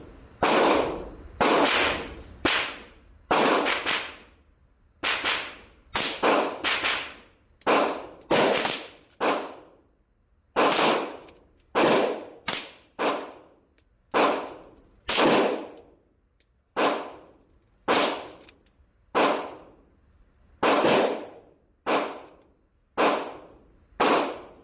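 Gunshots from a Henry Mares-Leg .22 rifle, a short-barreled build, crack sharply and loudly at close range, around two dozen shots in irregular groups and quick pairs with brief gaps between.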